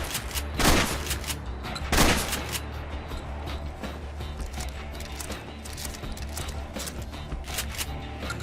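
Winchester 1897 pump shotgun firing in Fallout 4, two loud booming blasts roughly a second apart, followed by a steady wash of ambient game noise and fainter rumbling.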